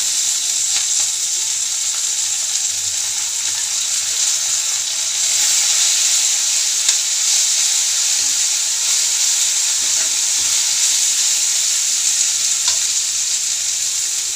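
Tomatoes frying in oil for a sabzi served with chapati give a steady, close hiss and sizzle that holds evenly for the whole stretch, with faint stirring and no voices.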